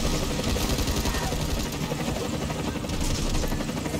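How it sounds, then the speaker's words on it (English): Helicopter rotor and engine drone in the video game Back 4 Blood, a steady loud broadband roar with rhythmic rotor chop throughout, with talk in the background. "Is that like helicopter lagging for you?"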